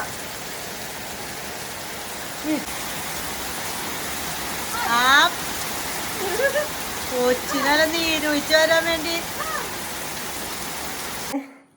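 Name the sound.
heavy rain outside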